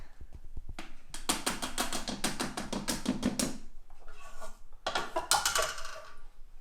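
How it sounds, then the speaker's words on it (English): Thermomix butterfly whisk being pulled from the bowl after whipping meringue, a run of rapid metallic clicks and rattles, a brief pause, then another clattering burst, close and fairly quiet. "Remove the butterfly whisk."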